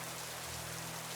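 Steady rain falling on a rainy, cool, breezy day, a soft continuous hiss that stays even and unbroken, with no voices present.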